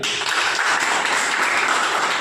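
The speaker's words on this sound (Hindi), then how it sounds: "मैं चाहता हूं शेषनाथ जी के लिए ताली बजाइए" An audience applauds for Sheshnath Ji at a level celebration event, the dense clapping loud, close and unbroken throughout.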